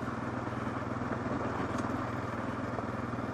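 A 2022 Kawasaki KLR 650 adventure motorcycle rides slowly over loose, marble-like rocks in Utah, its engine a steady, even drone with a faint clatter, heard continuously at moderate distance without talk.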